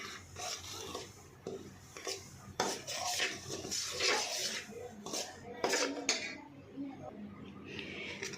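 Wheat flour roasts in a pan over a medium flame for lapsi while a metal spoon scrapes and clatters against the pan in quick, uneven strokes, some of them sharp clinks, with no voices.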